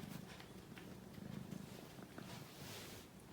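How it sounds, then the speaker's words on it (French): A cat purrs softly and continuously, a faint low rumbling with a gentle rhythm heard up close in a quiet room. "Oh, ça ronronne."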